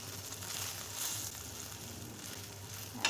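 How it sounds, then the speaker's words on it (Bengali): Eggplant slices frying in a pan, a continuous soft sizzle close by with a brief clatter near the end. "এখন আমার বেগুন ভাজাটা হয়ে আসছে"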